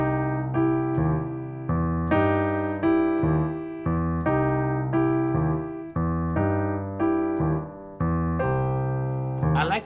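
Solo piano plays a grooving easy left-hand boogie piece, its steady rocking bass pattern repeating in even chord strikes under a bright right-hand melody, close and clear with no talking.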